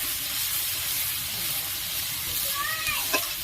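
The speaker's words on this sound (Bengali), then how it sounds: "একটু ভালোভাবে কষে নেব।" Mustard-poppy paste for shukto frying in a pan, a steady loud sizzling hiss throughout, with a brief clink of a utensil near the end.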